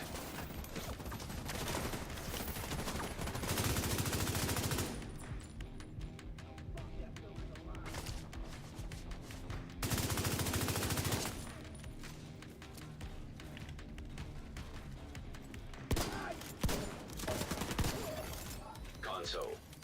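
SMG fire in The Division 2, with two sustained bursts of rapid automatic shots, each lasting several seconds, plus a few scattered single shots near the end, loud over a steady game background.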